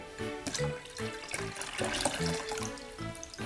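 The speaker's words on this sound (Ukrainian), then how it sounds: "Я набираю туди воду." Water running from a tap into a glass jar, a close, steady gurgling fill with bubbling, heard alone.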